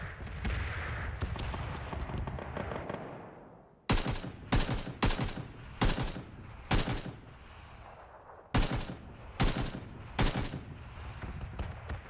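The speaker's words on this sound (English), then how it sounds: "There's a pretty interesting gunfire happening in that little town ahead." Gunfire rings out from a small town in the video game PUBG: a rolling clatter at first, then a series of sharp, loud shots and short bursts at uneven intervals.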